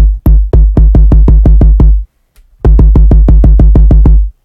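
Synthesized kick drum from the Kick 2 plugin, hit in a steady run of loud, booming, punchy thumps, eight in a row, a brief pause, then seven more, with no talking over them.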